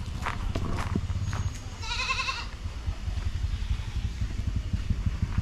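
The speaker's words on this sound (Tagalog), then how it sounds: "Mga kambing." Goats bleating outdoors in a rural setting, a few short calls at moderate distance, one wavering bleat standing out, over low background rumble.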